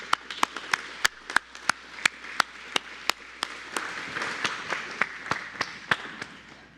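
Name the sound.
audience clapping at a celebration of life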